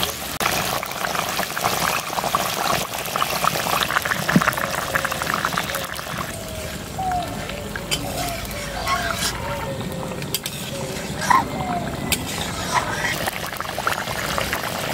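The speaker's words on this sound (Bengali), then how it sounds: "আমি এখন ঝোলের মধ্যে মাছগুলো দিয়ে দিচ্ছি।" Rui fish simmering in a curry broth with potatoes, giving a steady bubbling, gurgling boil with small liquid pops throughout, fairly close and continuous.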